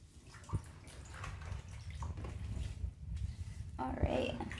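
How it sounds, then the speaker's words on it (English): Bathwater splashes and sloshes around a toddler in a tub, with irregular bursts of splashing close by. An adult talks over it. "It's a splashing in the water."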